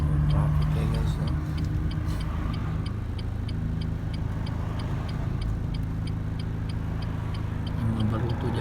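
Steady road traffic drones around a car in town, a continuous low rumble of engines with a regular indicator-like ticking; speech is heard faintly over it.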